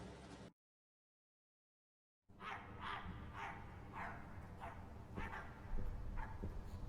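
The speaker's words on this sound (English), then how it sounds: "Why do the dogs sound violent?" Dogs in the video game My Friendly Neighborhood bark aggressively in a rapid series of sharp, loud barks after a short silence, steady and close with no talk.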